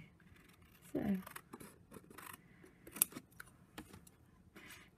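Scissors snipping card stock while making a Stampin Up box, a few quick crisp cuts close by with light handling noise between them and a voice speaking softly.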